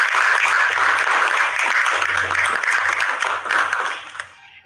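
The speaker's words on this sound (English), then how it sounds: "I request all of us present to give a very huge round of applause for all the technicians." Sustained applause from an audience at a railway ministry event honouring technicians, dense and steady clapping that fades out at the end.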